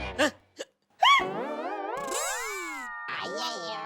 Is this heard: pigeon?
no